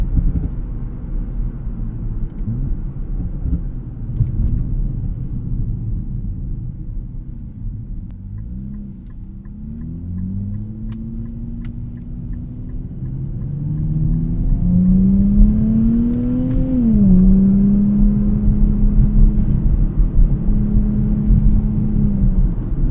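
A 2024 Nissan Z Nismo rumbles while driving in Sport Plus mode on rough roads, its engine droning low inside the cabin, dipping briefly and then climbing in pitch as it revs under acceleration, loud and continuous.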